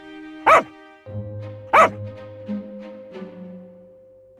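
Street dogs in an Indian lane give two sharp, loud barks about a second apart, then lower growls, yips and whimpers between them, close by and without speech.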